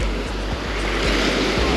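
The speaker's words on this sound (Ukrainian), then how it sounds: "Типу ось тут йде море," Sea waves washing onto a beach in Phuket, a steady close roar of surf with broadband rushing water and no voices.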